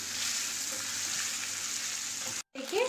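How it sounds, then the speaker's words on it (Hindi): Spiced breakfast snack frying gently in a pan over low heat, giving a steady, soft, broadband sizzle close by that cuts out briefly near the end before resuming. "हल्के आंच से 2-3 मिनट इन्हें इसी तरह से फ्राई कर लेते हैं"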